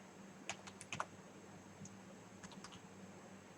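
A few quick clacks on a computer keyboard while Python code is entered, faint and close, in two short bursts over a low steady room hum.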